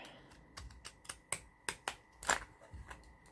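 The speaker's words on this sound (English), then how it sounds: "With my edging scissors," Sharp snipping clicks of edging scissors cutting paper, a series of close, irregular snips with quiet gaps between them.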